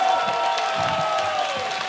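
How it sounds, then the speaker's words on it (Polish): Concert audience at an outdoor cultural event on the Polish border bursts into applause mixed with cheering and crowd noise, a dense, steady wash of clapping throughout with a sustained tone running underneath. "dacie brawa jeszcze raz na początek?"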